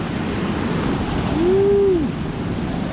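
Ocean waves wash onto Old Orchard Beach, a steady, fairly loud rushing surf with a brief tonal whine rising and falling partway through.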